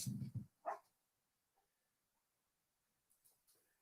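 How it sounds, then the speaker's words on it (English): A dog on a porch gives a couple of short, sharp barks near the start, fairly close, followed by faint scattered household noises and near silence. "The dog was barking because I got my door open"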